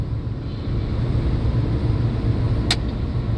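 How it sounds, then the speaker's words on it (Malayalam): Vehicles stuck in a long traffic jam on the road from Pattikkad toward the Kuthiran tunnel give a steady, close, low engine rumble throughout, with a brief higher-pitched burst near the end and no voices. "ഇതിപ്പോ പട്ടിക്കാട് തുടങ്ങിയിട്ട് ഇത്രയും വണ്ടികൾ റോട്ടിൽ കുരുക്കിടക്കാണ്"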